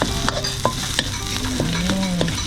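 Curry paste stir-frying in oil over medium heat for northern Thai nam prik ong, a loud close sizzle with regular spatula scrapes and clinks against the pan, and no talking.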